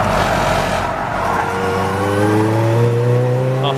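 Race cars at the Snetterton 300 during a 750MC Club enduro race, including Golf and TT TDI entries, roar steadily past with a loud, sustained engine drone that rises in pitch as they accelerate.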